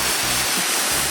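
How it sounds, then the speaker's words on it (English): A garden hose spraying water onto a car, a loud continuous hiss of spray with slight surges, close up and alone. "we can actually start spraying the car down with water"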